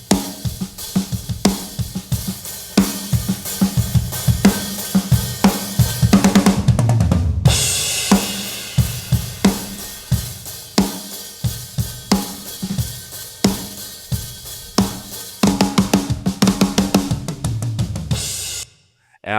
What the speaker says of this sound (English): if I add the snare channels in my overheads, this is what it sounds like.